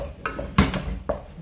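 A spoon stirring thick cabbage swallow in a pot: a few quick scraping, clinking knocks against the pot side, close and distinct.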